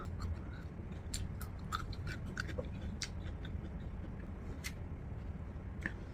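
Someone chews pickles close to the microphone, with a run of small crunchy bites and wet chewing clicks over a steady background hum and no talking.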